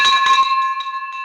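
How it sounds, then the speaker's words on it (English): A bell rings once with a bright, sustained metallic tone that decays slowly, heard clearly and alone at close range. "Yes, I got the bell."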